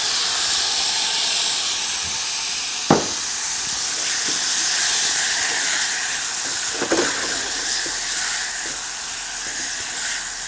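Tomatoes go into a hot frying pan for spinach and potato fritters, setting off a loud, sustained steamy hiss that runs throughout, with a couple of brief knocks and clatters of the pan.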